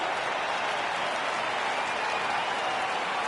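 A baseball crowd in a PS4 game rises for a full count, a steady, even wash of cheering and applause with faint commentary beneath.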